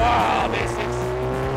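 A BAC Mono street-legal race car engine revving as the car drives fast at about 60 mph, a rising and falling engine whine close by, with a man's brief exclamation over it.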